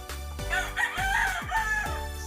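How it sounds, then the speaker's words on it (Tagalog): A large Labuyo junglefowl breeding rooster crows close by with a strained, raspy call, over a steady rhythmic mechanical hum in the background. "Ah, Hunter, ito yung aking ah, palahi. Ah, malaki."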